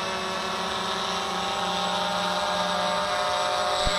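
A Walkera X350 PRO drone hovers close by, its motors holding a steady high whine and buzzing rotor hum, with a short thump near the end.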